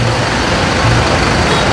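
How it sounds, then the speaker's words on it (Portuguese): Loud, steady car traffic on a street in Leblon, a dense close roar of engines and tyres with no breaks, heavy vehicles adding low rumble. "já fica aquele barulho infernal de"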